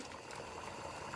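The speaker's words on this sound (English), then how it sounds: "the noodles have been boiling for 10 minutes" Noodles boiling in a pot of water for homemade chicken noodle soup, a steady faint bubbling and simmering hiss with no voices.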